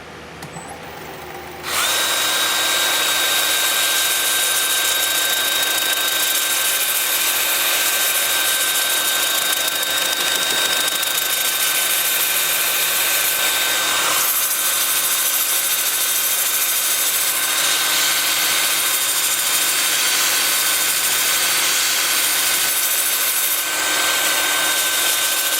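A wood lathe spins a wooden candy dish, starting up after a brief quiet moment and then holding a loud, steady whine with a high tonal hum and rubbing, scraping texture throughout.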